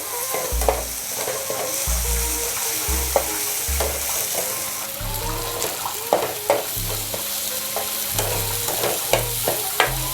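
A tomato tadka sizzles hard in a pan as a spoon stirs it, with a constant frying hiss broken by rhythmic scraping thumps and sharp clinks against the metal, and no talking.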